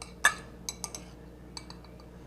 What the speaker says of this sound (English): So I'm just going to mix that spice together